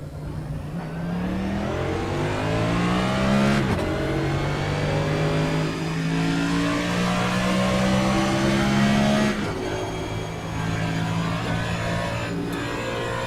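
Race car engines in a Daytona racing video game hold a steady, loud drone with rising and falling revs as cars run laps, shifting gears at a few points with no one speaking.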